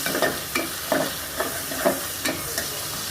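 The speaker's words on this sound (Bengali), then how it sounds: "তারপর অন্য একটা পাতিলে তেল ঢেলে দিয়ে পেঁয়াজ দিয়ে দিলাম একটু নেড়ে নিলাম" Onions frying in oil in a cooking pot, stirred with steady scraping strokes about every half second over a constant close sizzle, no voices.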